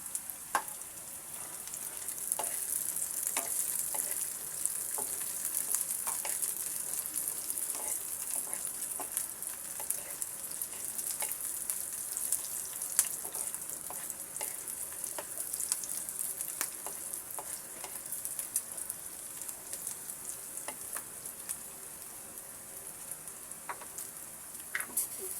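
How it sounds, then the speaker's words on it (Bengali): Chopped onion, garlic and green chili fry in a pan with a steady close sizzle, broken by occasional clicks and scrapes of stirring; no one speaks. "পেঁয়াজ এবং রসুন কুচিটাকে আমি সুন্দর করে ব্রাউন কালার করে ভেজে নেব।"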